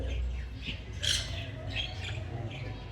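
A pair of white zebra finches at a pet shop in Islamabad give several short, close squawks and chirps in quick succession over a quiet background hum.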